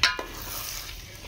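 Beaten eggs stirred into onions frying in oil in a pan, a quick metallic scrape and tap at the start, then a steady soft sizzle.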